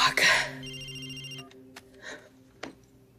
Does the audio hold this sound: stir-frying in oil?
no